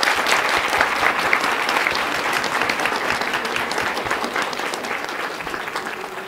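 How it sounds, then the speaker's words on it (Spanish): A large school audience at the opening ceremony of a Model United Nations event at the Liceo Franco-Mexicano gives loud, sustained applause. The clapping is thick and even throughout, with no voices rising above it. "Un fuerte aplauso."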